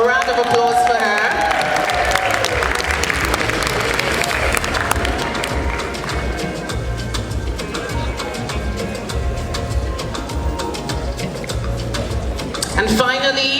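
A gala audience claps and cheers throughout, loud and sustained, with crowd noise and some voices mixed into the dense applause.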